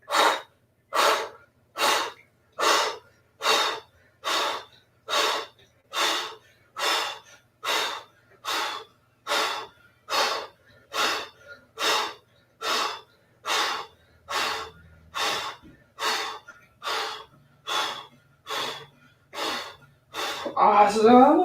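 A round of kapalabhati yoga breathing, heard as about twenty sharp, forceful nasal exhalations at a steady pace of roughly one per second, close and clear, ending in a longer breath.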